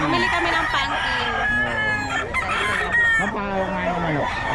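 Chickens cluck and a rooster crows repeatedly at close range, with overlapping calls from several birds filling the whole stretch.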